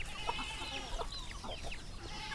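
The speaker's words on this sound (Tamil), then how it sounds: "கோழியெல்லாம் அங்கே மேய்ஞ்சிட்ருக்கு" Several free-ranging country chickens on a farm cluck softly nearby, short overlapping calls in an irregular rhythm over a low background hum.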